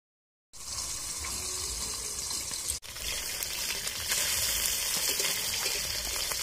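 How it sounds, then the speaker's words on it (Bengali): Small river mourala fish fry in hot oil, making a loud, dense, continuous hiss that cuts out for an instant and then carries on steadily at full strength, with no talking. "মাছের এক পিঠ ভাজা হয়ে গেলে অপর পিঠ ঘুরিয়ে দিচ্ছি"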